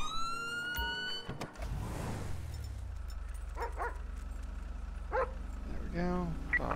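Police K-9 dog in the game GTA V with the LSPDFR mod, giving a few short barks over a steady low vehicle engine hum, with siren tones early and a voice speaking.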